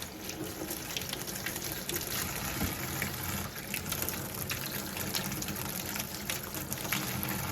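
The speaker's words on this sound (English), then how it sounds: "And I'm going to run the cold water." Cold tap water runs steadily into a metal strainer in a home kitchen while pasta is being made, a continuous hissing gush at close range with no talking.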